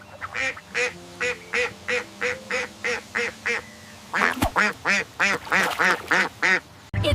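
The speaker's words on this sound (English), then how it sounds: "It's a duck." A duck quacks in a steady series of about twenty evenly spaced calls, loud and close, with a brief pause midway before a denser, harsher run of quacks resumes.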